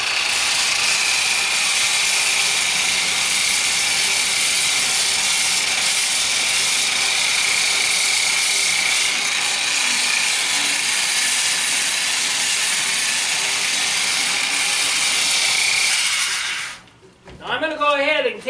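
A variable-speed polisher with a 50 grit pad runs at slow speed on a stone countertop, giving a loud, steady whirring hiss for most of the clip before it cuts out and a voice speaks briefly.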